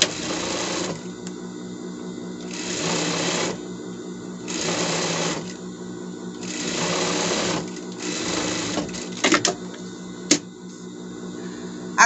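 A sewing machine runs a seam on a protective bed bumper in several short, evenly spaced bursts, each a few seconds long, close and clear with small handling clicks between runs.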